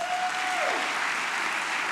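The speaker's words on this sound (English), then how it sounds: "huge, huge round of applause." A church audience breaks into dense, sustained applause for its board and staff, the clapping loud and even, with a brief whistle at the start.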